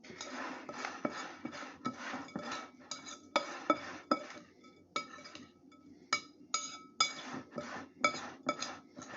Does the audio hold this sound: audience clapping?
no